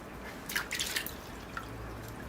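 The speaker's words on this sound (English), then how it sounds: "into the bucket of water goes the lantana" Lantana bonsai roots being washed in a bucket of water, with a few close, splashy drips and sloshes in a short cluster, then a single drip, otherwise quiet.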